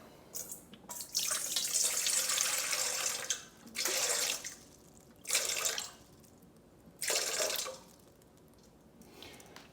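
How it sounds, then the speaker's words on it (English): Tap water runs into a container to measure 400 grams for a basic sourdough loaf, gushing in several bursts that start and stop, with quieter gaps between pours. "What I'm going to do is fill up 400 grams of water."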